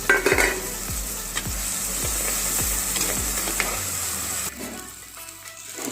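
Pieces of pre-fried chicken go into sizzling masala in a pan, with regular scraping stirs of a spoon against the pan over a steady loud fry; the sizzle eases near the end.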